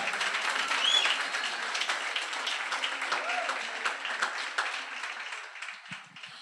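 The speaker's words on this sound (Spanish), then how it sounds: "Dale fuerte ese aplauso al Señor." A crowd claps steadily, a dense wash of applause that fades toward the end, with a voice speaking faintly underneath.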